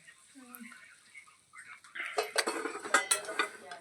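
Lapshi, a broken wheat porridge, stirred in a metal pot with a spoon, producing a cluster of close scraping and clinking knocks after a voice speaks.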